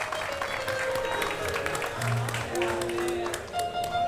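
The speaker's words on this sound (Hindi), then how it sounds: "जोरदार तालियां फॉर द एंटायर परिवार of the great Indian couple show." Studio audience claps for the whole team of The Great Indian Kapil Show; a sustained round of applause mixed with crowd noise and music, with voices faintly audible underneath.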